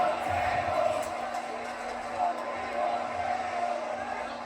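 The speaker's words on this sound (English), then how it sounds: "The crowd yelling, "We want tables" here tonight in St. Louis, Missouri" A wrestling crowd at a no-disqualification event in St. Louis, Missouri chants "We want tables" as a steady, rhythmic roar of many voices, with an announcer talking over it.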